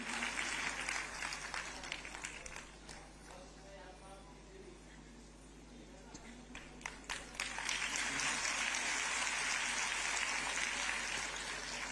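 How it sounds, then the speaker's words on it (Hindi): Sustained applause from a large audience at a government launch ceremony with the Chief Minister, heavy at the start, dipping in the middle under a voice, then building again into a dense, continuous roar of clapping. "आपकी तालियां संगीत का काम करती हैं।"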